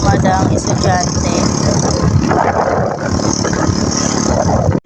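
Family motorbike engine running steadily during a ride to school, a continuous mid-pitched drone with wind rush and street noise throughout, voices talking over it.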